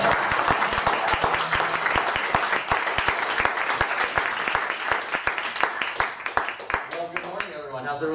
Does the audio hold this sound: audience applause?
yes